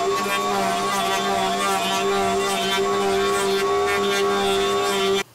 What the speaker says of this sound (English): So now I'm going to just round over all these edges on the router table.